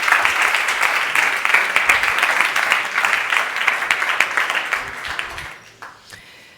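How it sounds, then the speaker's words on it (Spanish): Conference audience gives a lively round of applause after a business talk, a thick burst of clapping that stays loud for several seconds, then thins into scattered claps and fades out. "Un aplauso."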